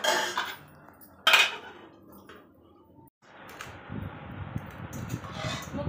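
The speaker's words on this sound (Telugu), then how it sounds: "మూత పెట్టుకుందాం." A metal lid is set on a pot of mutton curry with a bright clang, followed by softer clinks and handling noise, then the steady bubbling and sizzle of cooking, close by with no talking.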